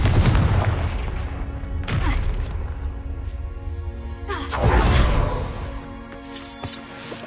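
Confringo fire spells cast in the Hogwarts Legacy video game burst as a series of booming blasts, each a loud whooshing impact followed by a crackling decay, spaced a couple of seconds apart.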